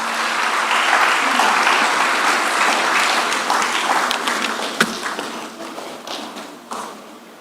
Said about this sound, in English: Nenyi, please let's continue with the applause for him.